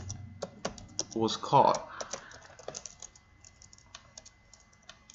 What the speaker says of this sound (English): we're going to type in an exception